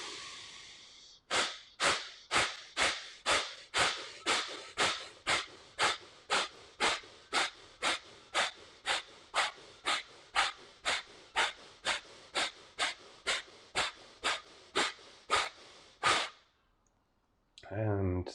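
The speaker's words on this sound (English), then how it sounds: "And slow breathing." Slow, deep rhythmic breathing during pranayama practice, with about thirty sharp, regular breath pulses in an even steady series, close to the microphone, ending in a brief pause and then a final breath.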